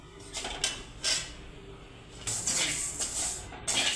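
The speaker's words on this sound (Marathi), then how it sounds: "हे तांदूळ चांगले भाजून घेऊत आपण" Rice grains dry-roasted in a pan, stirred with scraping and rattling strokes that come in short bursts with brief pauses, close and moderately loud, with no talking.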